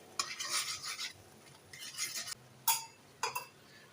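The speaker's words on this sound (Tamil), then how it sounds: "இதை நல்லா வந்து அப்படியே ஸ்க்ராம்பிள் பண்ணிக்கலாம்." Eggs with masala being scrambled in a pan, heard as a few separate bursts of scraping, stirring and utensil clinks against the pan with a soft sizzle, fairly close, no talking.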